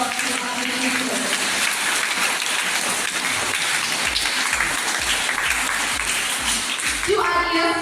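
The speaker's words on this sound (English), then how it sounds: "Let us give a round of applause to our teachers." Applause at a school felicitation program in Sohra, a broad steady wash of clapping from a gathered audience that fills the whole stretch, with a voice starting up near the end.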